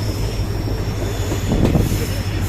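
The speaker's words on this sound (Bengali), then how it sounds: "ফরেস্টের মধ্যে দিয়ে ট্রেনটা যাচ্ছে এটা হচ্ছে চাপড়ামারি ফরেস্ট" A train runs through Chapramari forest on the Siliguri–Hasimara line, a steady close rumble of wagons and rolling wheels with a brief rise in clatter partway through.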